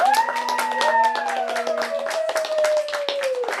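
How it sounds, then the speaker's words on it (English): Audience applause at a poetry reading, with brisk, dense clapping from a small crowd while a voice speaks or calls out over the top. "That deserves a round of very gay applause."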